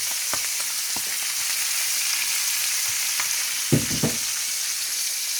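Rabbit pieces (kidneys, thighs, shoulders from a 1.2 kg rabbit) sautéing in a hot pan, a steady loud sizzle with a few brief stirring clatters and scrapes, no talk.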